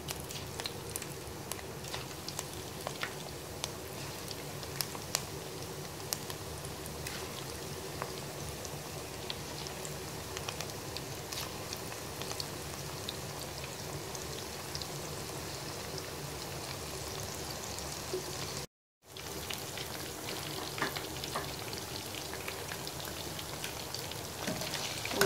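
Chicken chappli pieces deep frying in hot oil, a steady dense crackling hiss like rain that runs continuously and fairly loud, broken once by a brief gap near the end.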